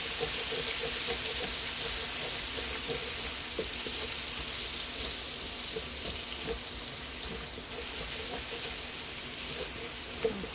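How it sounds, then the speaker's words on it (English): Garlic sweating in a hot pan for a Filipino pancit, a steady close broadband sizzle with faint crackles running evenly throughout. "We're just sweating our garlic right now"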